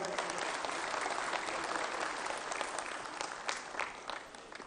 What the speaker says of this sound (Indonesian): Tepuk tangan untuk Puan kita.